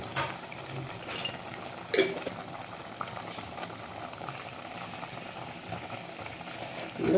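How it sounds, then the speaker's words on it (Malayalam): Sardine peera bubbles and sizzles steadily in a pan while it is stirred gently, close and continuous, with a brief louder scrape of the spoon near the start. "മീനൊന്നും പൊടിഞ്ഞു പോകാതെ പതിയെ ഇളക്കി കൊടുക്കാം"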